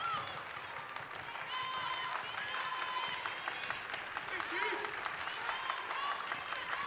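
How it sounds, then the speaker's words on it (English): Crowd at a girls' high school basketball subregional game cheering and clapping, a steady noisy roar of many spectators with squeaks and shouts mixed in, while a commentator talks over it. "See the crowd getting excited."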